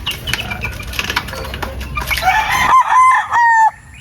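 Sweater gamefowl roosters on a farm cluck and rustle in the background, then one loud close rooster lets out a long, clear crow made of several held notes.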